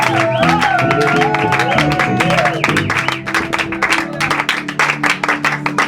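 A congregation at a live French-language church worship service claps rhythmically along with loud music and singing, the claps coming as steady, evenly spaced bursts throughout.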